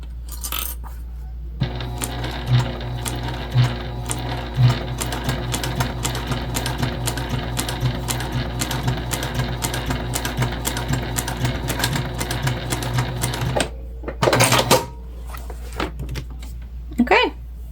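A Juki TL2010Q sewing machine stitches leather in a long, steady run of rapid mechanical clatter at close range, with speech faintly over it and a short burst of handling noise after it stops.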